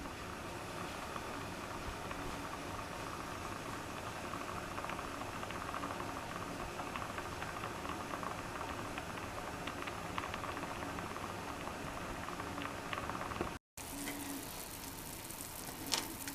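Tamarind broth for a fish curry bubbles steadily in a pot, a soft, even simmer with faint patter throughout and a brief break near the end.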